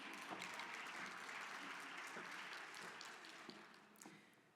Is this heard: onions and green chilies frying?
no